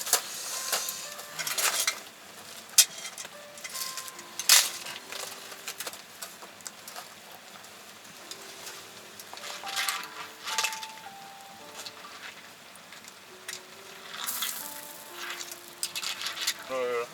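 Noodles being tossed and stir-fried in a pan with olive oil at a campsite, scraping and tapping utensil strokes in an irregular rhythm, close by, while soft background music plays and a person talks at times.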